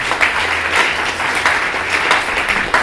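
A church congregation claps during a service on baptism, a steady, fairly close wash of applause with faint rhythmic pulses and no talking.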